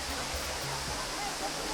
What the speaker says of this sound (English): So we reached finally at the location, Pali Waterfalls.